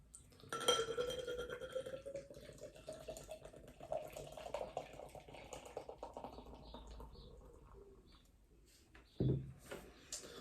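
Beer pours from a can into a glass, starting with a gurgling rush that slowly settles into a fizzing trickle, then a sharp knock near the end, all heard quietly and close up.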